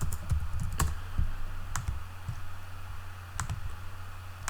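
Typing a number on a computer keyboard while working in a Google Sheets spreadsheet: a few quick, sharp key clicks in short bursts with pauses between, close and clear over faint background hum.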